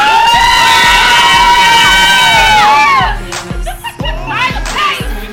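A loud crowd cheers and shouts with whoops, then the roar drops and excited yelling and scattered claps carry on nearby.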